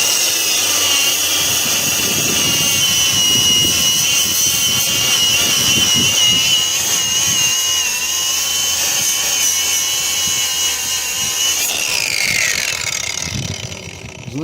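A Shidoku cordless angle grinder grinds steadily under light pressure, giving a loud, sustained high-pitched whine over a gritty rasp for most of the run, with a falling pitch near the end as it spins down.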